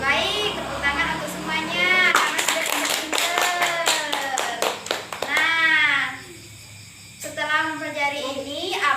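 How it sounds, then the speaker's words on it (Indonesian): A classroom of pupils claps together in a lively burst of quick, uneven hand claps, mixed with children's voices and chatter that carry on after the applause fades. "Baik, tepuk tangan untuk semuanya karena sudah pintar-pintar."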